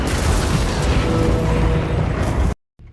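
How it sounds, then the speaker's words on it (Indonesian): Warship USS Samson blows apart in a film scene: a dense, roaring blast of noise fills about two and a half seconds, loud and sustained, then cuts abruptly to near silence before faint sound returns. "kapal itu meledak dan hancur seketika"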